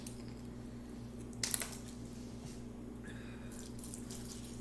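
Water poured into a bowl of Fruity Pebbles cereal in place of milk, a brief faint splash and trickle against a steady low household hum, with no talking.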